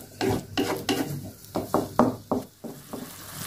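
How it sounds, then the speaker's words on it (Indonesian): Oyster sauce bubbling in a pan while a spoon stirs it in about ten quick, uneven strokes, close and fairly loud, with a faint sizzle underneath and no talking. "Nah, ini udah meletup-letup."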